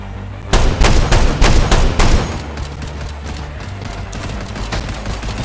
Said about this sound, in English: are you still shooting at me?